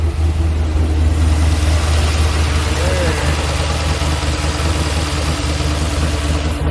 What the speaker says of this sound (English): It's always so cool hearing a V8 coming out of a first gen BRZ.